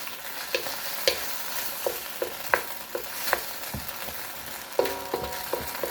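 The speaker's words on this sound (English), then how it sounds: "And we'll just keep on sauteing it." Shrimp sauté with ketchup and hot sauce in a pan, a soft steady sizzle broken by irregular clinks and scrapes from stirring, quiet and close.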